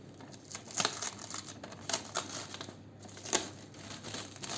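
A plastic PET bottle holding a sprouted lemon seed is opened up with close crinkles and crackles coming in a few irregular bursts against a quiet background.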